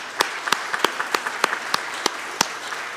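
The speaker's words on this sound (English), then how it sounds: "give you a round of applause" A church congregation at a Sunday worship service applauds sports parents, heard as fairly sparse, distinct handclaps in a loose, steady rhythm, moderately close, with no voices over them.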